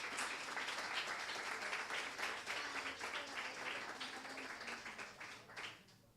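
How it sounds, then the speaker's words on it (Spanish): A bar audience at a literary night applauds loudly and steadily for several seconds before the clapping tapers off and ends abruptly. "Aplausos."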